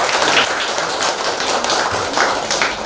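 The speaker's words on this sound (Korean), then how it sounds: "박수로 환영해 주시기 바라겠습니다." Sustained, dense audience applause at an exhibition opening ceremony, welcoming three performers about to play a traditional Korean piece; the clapping stays steady and fairly loud throughout, with no talk over it.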